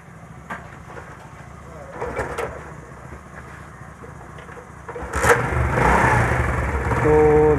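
Motorcycle kick-started again after a spark plug fault was fixed: a few clunks and knocks, then the engine catches and rises into a loud, steady running drone, with someone talking.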